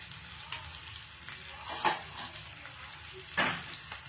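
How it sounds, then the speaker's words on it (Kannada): Ginger, garlic, red chilli powder and coriander powder frying in a pan, a steady close sizzle with a few louder bursts as the mix is stirred, no voices. "ಇದು ಸ್ವಲ್ಪ ಫ್ರೈ ಆಗಬೇಕು, ಅದರ ಹಸಿ ವಾಸನೆ ಎಲ್ಲ ಹೋಗಬೇಕು"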